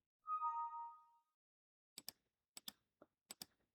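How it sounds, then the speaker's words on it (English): Windows 8 build 8032 new instant message notification: a brief, soft, two-tone electronic chime that fades quickly, followed by a few faint, sharp clicks. "New instant message."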